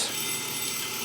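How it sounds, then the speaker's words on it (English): A cleaning machine's alarm, used on a watch bracelet, signals that the second rinse is over with a steady, loud ringing tone that fills the whole short moment. "that was the alarm for the cleaning machine. The second rinse is over"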